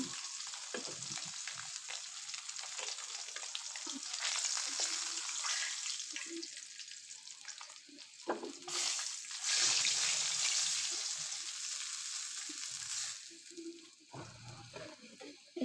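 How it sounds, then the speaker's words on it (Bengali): Pangas fish fries in plenty of hot oil in a pan with a continuous close hiss and crackle that swells at times, and a few soft clinks from turning the pieces. "আমি দুপাশেই সমানভাবে লালচে করে ভাজে নেব"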